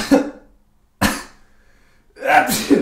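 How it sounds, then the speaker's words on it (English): Three sharp, explosive bursts from a person, separated by short pauses, the last a double burst; sounds like a sneeze mixed with coughing, close to the microphone. "Hold on, I gotta sneeze."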